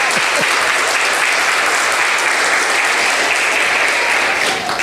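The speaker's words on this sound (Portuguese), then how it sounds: "dá uma salva de palmas para Jesus" Church congregation bursts into loud, sustained applause during a sermon, a dense, continuous roar of many hands clapping close by with no break.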